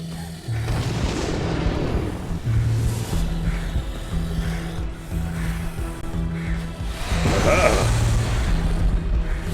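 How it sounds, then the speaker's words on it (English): Deep, rumbling video game explosions roll continuously with heavy low-end thuds, a loud explosive burst near the end, over a steady droning background. "Big explosions."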